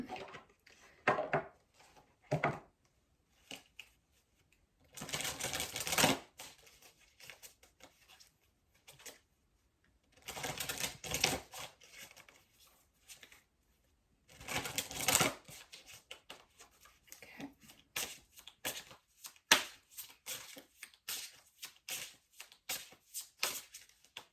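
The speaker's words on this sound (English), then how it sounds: "I haven't used this deck in a really long time, so I'm going to shuffle it" Repeated bursts of oracle cards being shuffled, riffling and tapping in several loud rounds separated by short pauses, with light handling sounds between.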